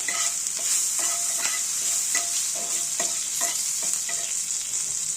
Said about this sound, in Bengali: দিয়ে ভালো করে আমরা মিশিয়ে নেব